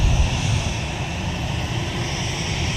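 Sun Country airliner taxiing at MSP airport, a steady broad jet-engine rumble and hiss at moderate distance, constant and unbroken with no voices.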